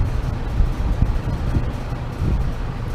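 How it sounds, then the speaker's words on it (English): An electric fan runs in a garage where a 1969 Charger is getting a Dana rear end, giving a steady low rumbling whoosh with slight fluctuations, close and continuous with no voices. "I'll turn off the fan because I know that noise is annoying."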